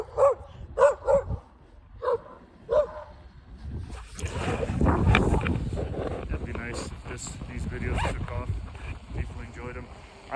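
Dogs bark several times in quick succession, loud and nearby, on a snowy off-road trail ridden on a Begode EX20S electric unicycle, then heavy wind rush and rumbling take over as someone talks to them.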